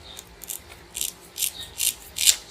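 Scissors snipping through a bundle of horsehair while making a bag clip keyring, a series of about six short, crisp close-up cuts in an uneven rhythm.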